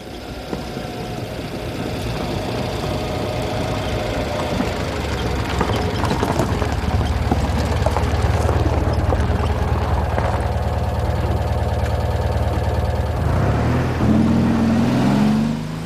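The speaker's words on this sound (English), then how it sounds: "the grey 2CV is a 1957 2CV, Type AZL, which is 425 cc's and is flat twin air-cooled" A 1957 Citroën 2CV Type AZL with its 425 cc air-cooled flat twin starts and settles into a steady buzzing idle, loud and close, with a brief rising whine near the end.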